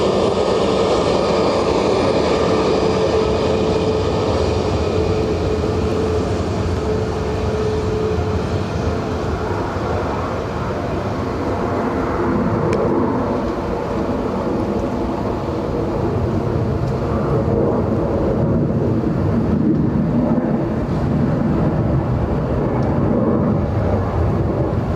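A Ryanair airliner at Dublin Airport, arriving from Faro, gives a loud continuous engine roar that holds steady throughout, close and dense with rumble.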